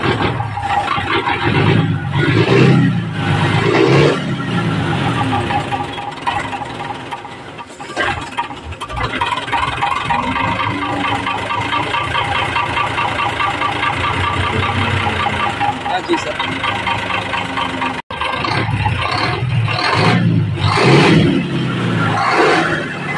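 A Mitsubishi 6D40 diesel engine runs at a rough, rumbling idle after starting, loud and close throughout, with people talking over it.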